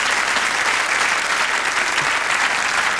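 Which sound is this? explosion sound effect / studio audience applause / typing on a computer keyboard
studio audience applause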